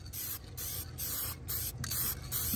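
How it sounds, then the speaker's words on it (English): Spray paint can hissing out paint for a touch-up job, in several close, steady bursts with brief pauses between them, loud and alone with no talk. "And I'm getting this spray paint runny as shit."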